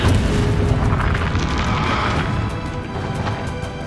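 A Confringo spell blasts in the Hogwarts Legacy video game, a loud booming impact with crashing debris that rumbles and then slowly fades.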